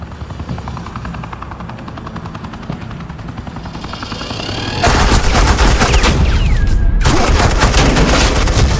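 Heavy suppressing gunfire erupts in the Batman The Enemy Within video game, loud dense automatic bursts over a helicopter's rotor roar, starting partway in and nearly continuous to the end with a brief break.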